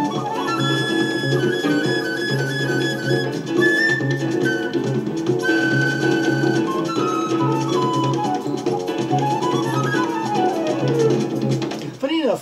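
A flute solos over a busy full-band jazz groove on a 1974 track, its high held notes and quick runs riding on top of steady bass and drums, continuous and prominent.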